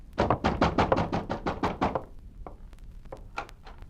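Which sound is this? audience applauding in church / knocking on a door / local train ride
knocking on a door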